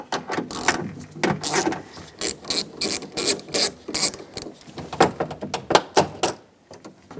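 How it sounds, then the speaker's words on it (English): A hand ratchet turns bolts loose on the rear window regulator of a 2007-2014 Chevy Silverado 2500HD: quick bursts of sharp clicking, repeated over and over at close range with brief pauses between strokes. "Let's unthread those bolts just a little."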